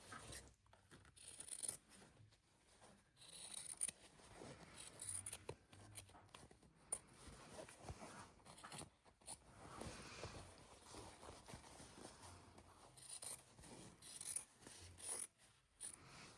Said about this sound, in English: When you get to the corners, go ahead and cut them off.